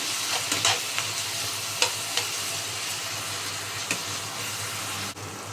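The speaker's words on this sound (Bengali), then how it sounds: "পেঁয়াজগুলোকে একদম এভাবে কষাতে হবে।" Onions sautéing in a pan under a steady close sizzle, with a spatula stirring and scraping now and then in a few distinct strokes, no talking.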